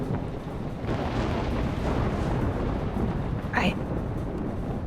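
A thunderstorm in the video game Life Is Strange: a steady, dense roar of rain and storm noise fills the whole stretch at even loudness, with a brief higher streak of sound near the end.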